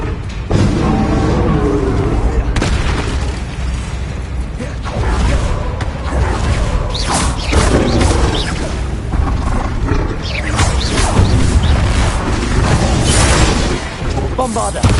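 Spell blasts from Bombarda and Confringo in Hogwarts Legacy boom and crackle through loud, continuous combat noise, with repeated bursts and creaking rumble under a speaking voice.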